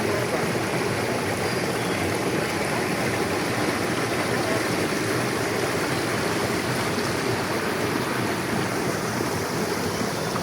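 A forest river rushes steadily, its broad, constant flow filling the scene from start to finish with no pauses and no other sounds standing out.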